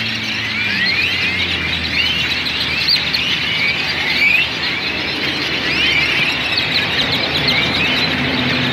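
Many birds call and chirp in a dense, continuous chorus from the film The Birds, shrill and steady throughout, with no voices over it.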